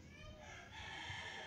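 Chickens at feeding time give a brief burst of clucking and squawking, faint and close by, with a soft voice mixed in.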